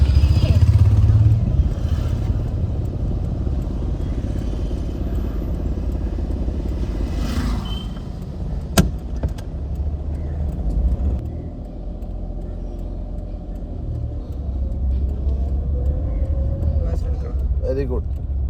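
Car engine idling and pulling away in first gear with half clutch during a driving test, a steady near rumble that rises and falls, overlaid with ongoing conversation between instructor and learner, plus an occasional click.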